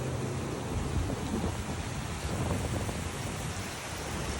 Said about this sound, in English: Anyway, look at it rain.